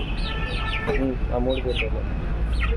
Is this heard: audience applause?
no